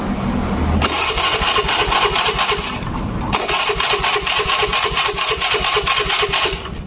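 A Honda Vario carburetor scooter engine cranks once, catches briefly, then cranks again and fires into a loud, rapid, rattling idle close by.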